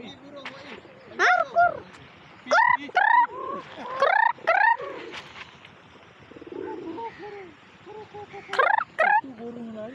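Birds call repeatedly at a lakeside park on New Year's Eve, a series of loud, close, rising whoops and gobbling notes coming in bursts over a busy murmur of people talking in the background.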